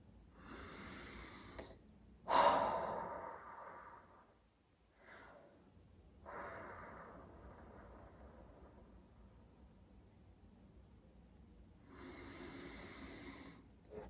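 Slow, deep breaths during a guided breathing exercise: a few long, quiet inhales and exhales spaced apart by near silence, close and soft.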